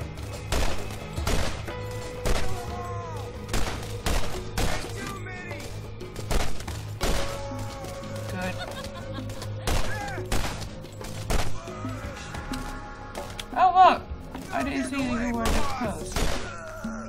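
Gun fired repeatedly in Borderlands, sharp loud shots recurring throughout among thuds and shattering effects, with a person talking over much of it.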